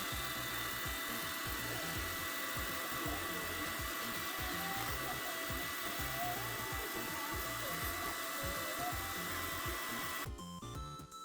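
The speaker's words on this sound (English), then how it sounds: "it's basically a tiny handheld vacuum cleaner air blowing thing" A Meudeen electric electronics duster, a handheld air blower, runs loud and steady for about ten seconds, a continuous whooshing roar that cuts off abruptly near the end.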